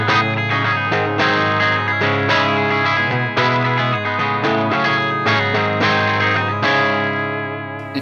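An electric guitar plays bright, distorted chords and notes through a Soldano SLO-30 tube amp with the bright switch engaged, giving a crisp, sparkly top end, loud and sustained with no talking.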